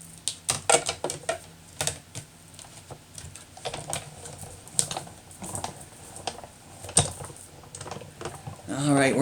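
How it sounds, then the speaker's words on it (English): Paper runs through a hand-cranked embossing machine for a foil birthday card, giving a string of dry clicks and crisp ratcheting taps, close and fairly quiet, with irregular rhythm over several seconds. "And we'll run that through and emboss that."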